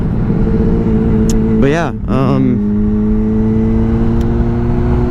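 Honda-style 600RR sport motorcycle engine idling then blipped twice in quick succession, loud close revs rising and falling before settling back to a steady idle, with a voice speaking briefly over it.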